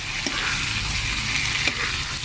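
Chicken pieces for garlic butter chicken fry in a pan, giving a close, steady, dense sizzle that runs unbroken with no talking.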